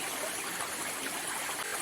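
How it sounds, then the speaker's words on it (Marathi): A mountain stream in a forest ravine rushes close to a waterfall, producing a steady, dense, loud wash of water throughout with no voices. "आणि आम्ही आता धबधब्याच्या अगदी जवळ आलो आहे"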